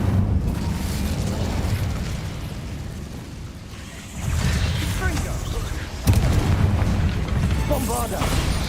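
Fiery magical blasts from an Incendio fire spell cast in Hogwarts Legacy roar and crackle in loud bursts, with sharp flare-ups around the midpoint and later, a thick rumbling fire sound that carries throughout with no talk.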